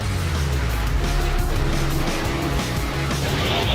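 Race cars in a Transformers console game roar continuously at close range, engine noise loud and steady with hints of tire squeal and game effects layered over it.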